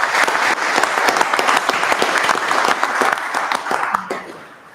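An audience at a county board of supervisors meeting claps in thanks for a catering crew, a dense burst of applause that carries steadily for several seconds before fading out toward the end.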